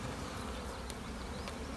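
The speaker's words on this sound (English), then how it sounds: "I'll bet there's only about 5 frames of bees underneath" Honey bees drone steadily inside a beehive, a dense, even buzz close up with no pause, a few louder individual passes standing out briefly.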